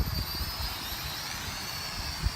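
A Holy Stone X400 quadcopter drone flies outdoors, attempting a flip, its steady broadband propeller whine holding at an even level throughout, with a brief louder bump near the end and no talking.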